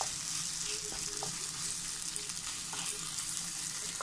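Ingredients for Thalassery chicken dum biryani are mixed in a hot pan with a steady, close sizzle and occasional faint scrapes of stirring.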